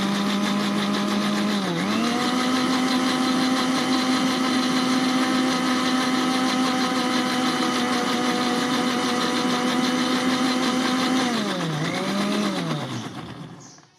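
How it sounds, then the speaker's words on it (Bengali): Blender grinding soaked fenugreek and rice, a loud steady motor whine that dips as it starts, runs evenly for about ten seconds, then drops and winds down to a stop. "এই যে দেখেন, আমি ব্লেন্ড করে নিচ্ছি।"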